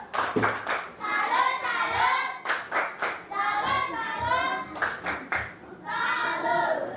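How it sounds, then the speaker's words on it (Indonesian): Children and an audience in a classroom lesson clap in short rhythmic patterned bursts, a group clapping routine repeated several times with brief pauses between. "Kita kasih tepuk salut."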